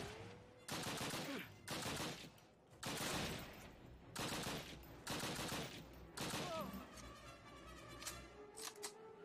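Gunfire in a Call of Duty game: repeated loud automatic bursts in roughly half-second clusters, separated by short gaps, with quieter clicks and tones near the end.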